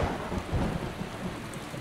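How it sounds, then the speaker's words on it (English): Thunder rumbles through a rainy thunderstorm in Skyrim, a low, continuous roll beneath dense, steady rainfall with no voices. "Thunder!"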